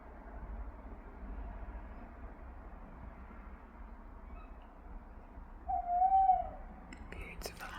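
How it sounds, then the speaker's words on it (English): A single owl hoot carries across an open night, distant and soft over a low background hiss, with a faint quiet voice nearby. "You hear those owls?"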